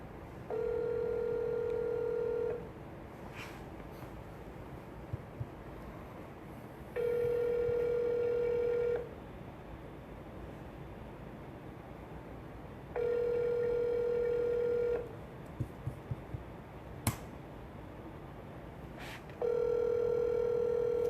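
A telephone rings back repeatedly through a handset, steady two-second ring tones separated by longer pauses, with a few faint clicks between.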